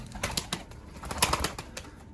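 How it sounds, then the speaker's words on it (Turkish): An agitated pigeon trying to get into a loft coos and flaps its wings up close, giving a run of soft throaty bursts and fluttering wing beats with a few sharper flaps in between. "Acayip kızgın bir kuş"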